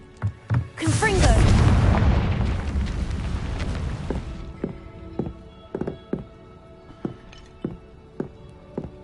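A Confringo fire spell from Hogwarts Legacy bursts into a loud, roaring explosion that rumbles for several seconds and fades, followed by a run of sharp, evenly spaced thuds like footsteps.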